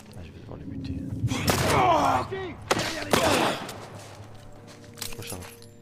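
A few sharp gunshots ring out in The Last of Us Part 1, loud cracks spaced about a second apart, with some shuffling and a voice speaking between them.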